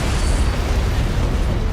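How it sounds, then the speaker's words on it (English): A deep, rumbling antimatter charge explosion aboard a ship in a Halo cinematic, loud and sustained, with a heavy low roar and no break. "I'd guess an antimatter charge."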